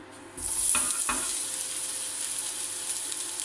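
Red onion, bell pepper and leek hit hot olive oil with a sudden loud burst of sizzling, a couple of sharp clatters as they land, then a steady close crackle.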